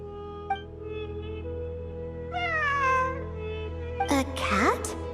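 A cat in the video game Genshin Impact meows several times, with short rising and falling cries over a steady low game-music hum and a louder, drawn-out meow near the end.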